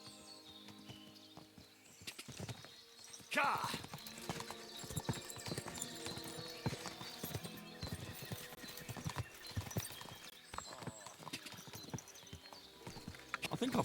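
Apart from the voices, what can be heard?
horse hooves clip-clopping while riding, from video game Kingdom Come Deliverance 2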